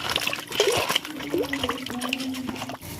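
Fresh cabbage being rinsed under running tap water, a steady trickle and splash with some drips, fairly close, with faint background noise throughout.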